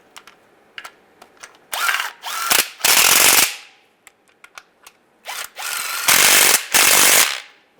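A power tool runs down the timing cover bolts on a 2007-2013 Chevy Silverado in several loud, close bursts of whirring and ratcheting, with small clicks and taps between them.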